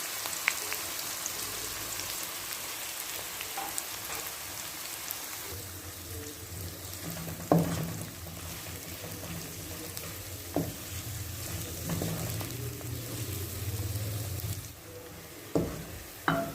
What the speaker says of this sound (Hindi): ऑयल गरम हो चुका है, तकरीबन 1 प्याली ऑयल डाला है हमने और अब हम इसमें कटे हुए प्याज डाल देते हैं